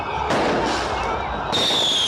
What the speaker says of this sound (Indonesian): Kembang api ditembakkan ke udara, mengiringi jalannya bus yang membawa para tahanan yang akhirnya bebas.